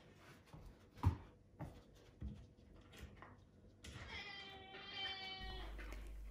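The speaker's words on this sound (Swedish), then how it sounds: "Kattrackaren har visst kommit in och ska göra sig hörd." A cat indoors gives one drawn-out meow after a few soft knocks and clatters, fairly faint and close, with no talking.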